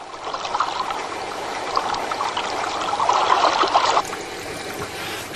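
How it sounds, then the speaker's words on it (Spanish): A thin, continuous trickle of ferric sulphate pours into water at a wastewater treatment plant, a steady close splashing hiss that swells slightly before easing off. "Ahora se vierte continuamente un chorrito de sulfato férrico en el agua"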